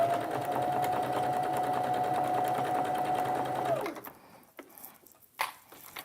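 A sewing machine runs steadily while stitching kitchen curtains, a continuous whir with a high steady tone that stops near four seconds, leaving faint handling sounds and light clicks.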